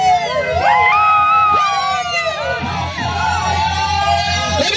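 A party crowd at a bonfire gathering yells, whoops and cheers loudly in overlapping shouts, with high wavering voices rising and falling close by and no let-up across the stretch.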